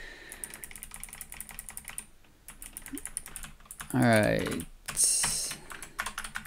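Rapid clicking of keystrokes on an ordinary, inexpensive computer keyboard, steady typing that pauses briefly, with someone speaking a few words midway.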